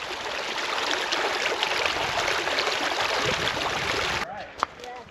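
Nat Straw Creek flows into the West Fork Gila River at a canyon junction in the Gila Wilderness, New Mexico, with a steady close broadband water rush that cuts off near the end, leaving a few faint knocks.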